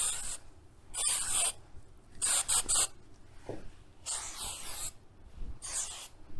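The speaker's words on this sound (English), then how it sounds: "So I'm gonna spray them a little bit." Several short bursts of hairspray hiss close by onto curled hair, separated by brief pauses, with faint rustling between them and no talking.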